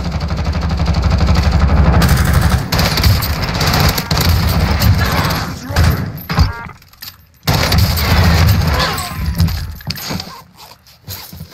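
Grenade blast and gunfire in Call of Duty Warzone, a loud, dense burst of booming, rattling game combat that drops out briefly around the middle, then resumes with scattered shots and thumps.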